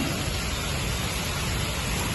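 Heavy rain falls as a dense, even, unbroken hiss that stays level and loud throughout the short stretch, with no voices.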